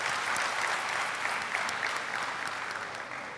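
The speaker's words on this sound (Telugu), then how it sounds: "ఒక్కసారి ఈ మెడ్లీకి గట్టిగా చప్పట్లు కొట్టేద్దాం" An anniversary event audience claps for a dance medley, a brief, dense burst of steady applause at moderate level with no voices standing out.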